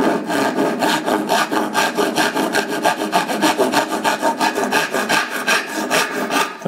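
A panel handsaw cuts through wood with steady, rhythmic back-and-forth rasping strokes, close and fairly loud, with no voices over the sawing.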